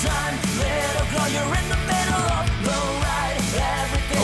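A Logic Pro X recreation of a song plays as a dense, loud full-band rock mix with driving drums, distorted guitars and a steady pulse throughout.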